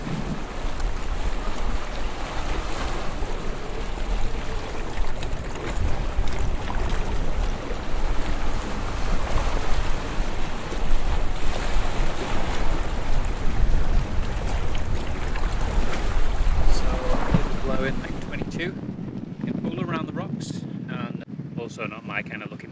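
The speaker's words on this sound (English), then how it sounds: "It's been a while since we've had a nice wind like this." Strong wind roars across the microphone aboard a Lagoon 440 catamaran sailing off Sardinia in about 12 knots of breeze, a loud steady rush with water noise beneath that drops away abruptly near the end.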